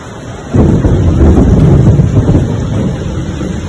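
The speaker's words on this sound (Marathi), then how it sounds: "ढगांचा गडगडाट देखील सध्या निफाडमध्ये होतोय आणि मुसळधार असा पाऊस सध्या नाशिकच्या निफाडमध्ये होत आहे" A thunderstorm with heavy, torrential rain in Niphad, Nashik: a loud, sustained roar of downpour and rumbling thunder swells suddenly and holds close, with no talk.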